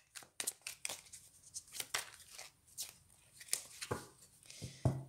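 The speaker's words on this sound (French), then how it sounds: "je reprends le mélange des cartes" Playing cards being shuffled in a quiet room, a series of crisp riffling and crinkling bursts repeating irregularly at close range, with no talking over them.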